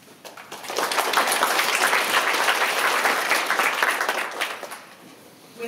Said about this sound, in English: Please give all of our speakers a round of applause.